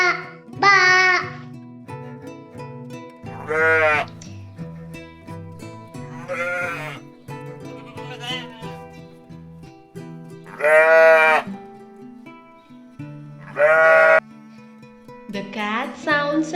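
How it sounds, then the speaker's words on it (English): Sheep bleating in several separate loud calls spread across the span, wavering and close, with quieter pauses and farm background between them. "The sheep sounds as ba, ba, ba."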